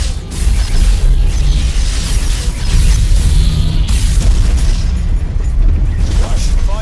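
Spaceship weapons fire and explosions from a Stargate Universe blockade scene boom and rumble heavily and loudly throughout, with layered crashes and bursts filling the space.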